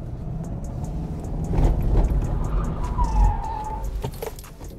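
A Subaru Impreza 2.0 diesel boxer with all-wheel drive spins through a handbrake turn: the engine swells and drops while a thin tyre squeal rises briefly, heard from inside the car with no talking.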